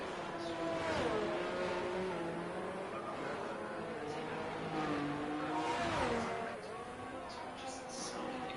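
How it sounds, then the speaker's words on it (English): F4 race cars at the Jeddah circuit in a racing video game, their engines whining and shifting pitch as they rev and accelerate, faint and continuous beneath a voice. "I think the car sounds were actually alright."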